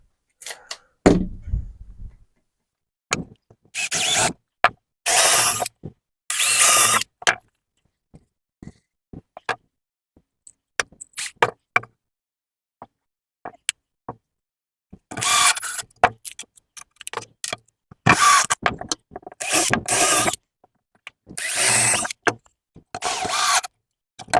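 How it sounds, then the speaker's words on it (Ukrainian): A power tool whirs in repeated short bursts, drilling and driving screws into wood, separated by quiet gaps and small clicks of handling. "Зараз е, свердлим отвори і прикручуємо його шурупами."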